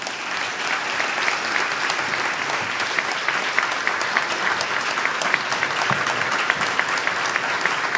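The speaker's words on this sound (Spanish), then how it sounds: "con este aplauso agradecemos y despedimos al señor presidente de la Nación" A hall audience applauds Argentine president Javier Milei at the Consejo Interamericano de Comercio y Producción, a steady, dense wash of clapping that holds an even level for eight seconds with no voices above it.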